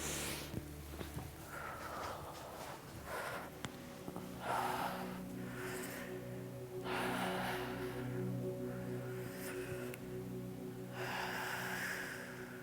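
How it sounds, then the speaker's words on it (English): Slow, deep breaths during pranayama yoga practice, quiet and close, with soft inhales and exhales repeating in a steady rhythm over a faint tonal background. "breathing."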